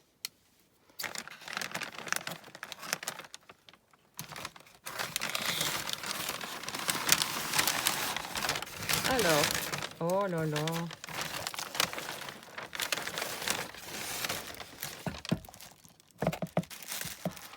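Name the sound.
parcel being opened and unwrapped, paper crinkling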